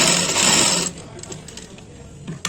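A sewing machine runs fast and loud while stitching a pant, then stops, leaving quieter handling clicks and a brief knock near the end.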